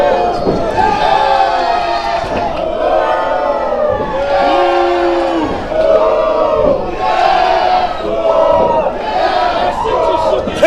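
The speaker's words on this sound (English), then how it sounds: "Listen to this crowd." A large crowd at a goat versus goat wrestling match chants loudly in repeated rhythmic waves, rising and falling roughly every second or two, close and full throughout.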